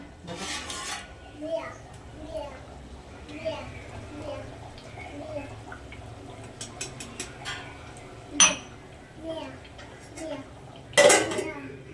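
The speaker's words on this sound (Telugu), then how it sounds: "గిన్నెలు తోముకుంటున్నానండి" Dishes being scrubbed and handled: rubbing and scraping with clinks of metal pots and utensils, and a loud clatter near the end, while voices murmur in the background.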